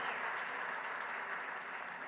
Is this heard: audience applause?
yes